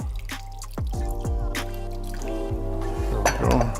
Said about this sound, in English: I'll do a couple tablespoons of the rice vinegar.